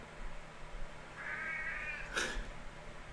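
A cat meows once, a rising drawn-out call followed by a short sharper cry, close by over a quiet room hum with no talk.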